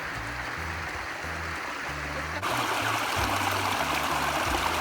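Water spills over a small waterfall in a woodland stream at John Bryan State Park, a steady rushing trickle that gets louder halfway through.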